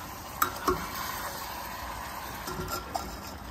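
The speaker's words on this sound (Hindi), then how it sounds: "और इसको अच्छे से हम मिक्स कर लेंगे।" Liver and kidney being stirred in a pot with spices and salt, a steady low sizzle of frying under a few sharp spoon scrapes and clinks against the pot, no voices.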